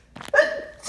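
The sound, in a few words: sneeze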